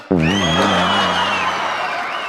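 A studio audience at a comedy show erupts into cheering and applause to welcome Kapil Sharma, a loud sustained crowd roar with whoops rising sharply and holding.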